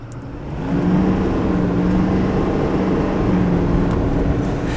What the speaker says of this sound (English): I'm gonna give it wide open throttle.